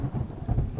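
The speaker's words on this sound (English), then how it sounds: "Thunder and lightning." Thunder rumbles low and steady under rain in a farming and tavern video game, a brief continuous storm with no voices.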